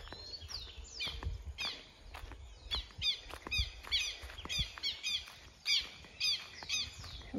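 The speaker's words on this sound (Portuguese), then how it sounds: "Os passarinhos lá." Many birds chirp and tweet in repeated bright bursts beside a river at a country property, with a low rumble of flowing water and outdoor noise underneath.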